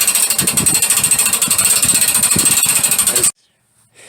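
A slow-moving crank mechanism on a tow dolly for an Airstream Land Yacht motorhome gives a close, loud, rapid mechanical rattle for about three seconds, then stops abruptly into near silence.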